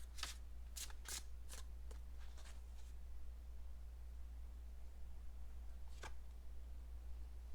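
Tarot cards being shuffled and drawn from a deck, a quick run of crisp riffling bursts, then quiet, then one more card snap, close and soft over a low steady hum.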